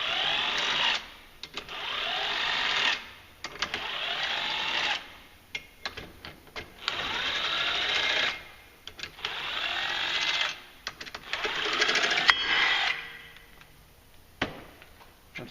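A power tool spins out 10mm bolts on a 2016 Polaris RZR Turbo clutch during a clutch kit install, heard as several short whirring bursts, each a second or two long, separated by quiet pauses.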